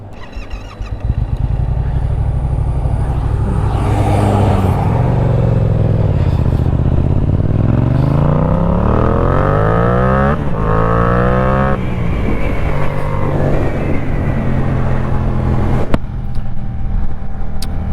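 A motorcycle restarts after stalling, then revs hard and pulls away fast, its engine note climbing through quick upshifts before settling into a loud, steady run close by.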